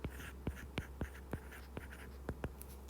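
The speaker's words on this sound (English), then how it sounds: "Let us write the given data." A pen writes out figures on paper in a quiet room, giving a series of sharp, evenly spaced scratching strokes over a low steady hum.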